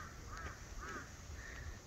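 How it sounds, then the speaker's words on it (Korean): Crows cawing on a golf course in Yeoju: three harsh, evenly spaced caws at a moderate distance, faint against soft outdoor background noise, with no talk during the calls. "까마귀가 웃는다."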